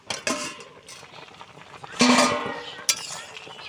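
A metal lid lifted off a pot of potatoes boiling on the stove: scattered clinks and clatters, with a brighter metallic clank near the end, close by and moderately loud.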